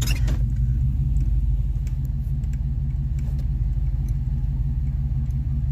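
A Chevy engine idling with an underdrive aluminum pulley kit and bypassed A/C, a steady low rumble close by that holds an even, constant tone, no voices.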